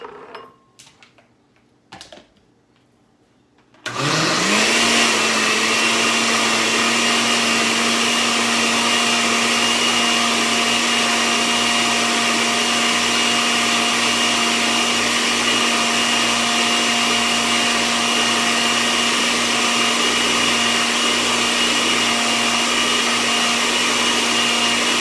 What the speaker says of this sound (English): Guys, with this blender we don't need no straining